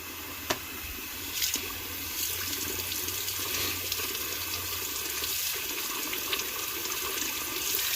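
Hot water runs steadily from a tap over a plastic frame part during a repair on a '71 Cuda, a continuous close hiss and splash with a few small knocks and no talking.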